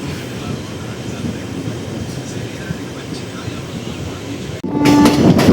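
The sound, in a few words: train running, Tiruvannamalai to Tirupati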